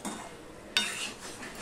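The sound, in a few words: stirring fried pointed gourd (potol) into the masala in a pan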